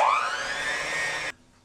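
An electric mixer beating cream cheese gives a high motor whine that rises in pitch as it spins up, holds steadily, then cuts off abruptly into near silence.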